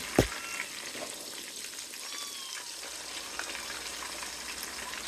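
Pork chops coated in Louisiana chicken fry sizzle steadily in a pan, a close, continuous crackle of frying oil with a sharp clatter at the start and no talk.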